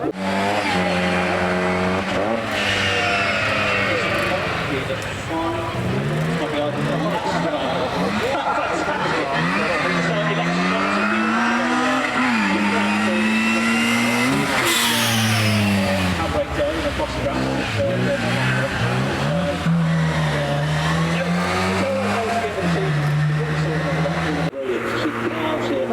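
A 290 horsepower Group A rally car climbs the Prescott speed hill climb, its engine loud and near, rising and falling through gear changes with tyre squeal, a voice talking over it throughout.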